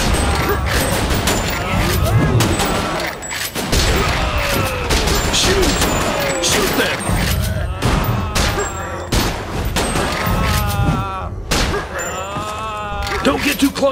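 Gunfire in the Time Crisis 5 arcade shooter comes as rapid, loud volleys of shots through the whole stretch, dense and close, mixed with clanking mechanisms and shouted voices.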